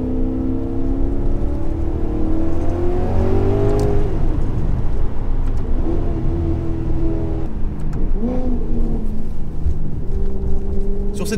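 A big front-mounted Ferrari V8 with a single-clutch F1 gearbox in Gran Turismo Sport revs loudly and continuously, its pitch rising and falling through shifts as the car accelerates.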